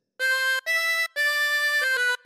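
Harmonica playing a phrase of a theme, three sustained reedy blown notes with short breaks between them, clear and close with no voice over it.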